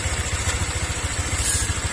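A Honda Click 125 V2 scooter engine with a faulty tensioner runs close by, a fast, even ticking knock beating steadily under its low idle for two seconds.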